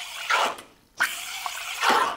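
La Marzocco espresso machine steam wand frothing a small jug of cold water mixed with cleaning agent, three hissing, gurgling bursts of steam close by with short gaps between.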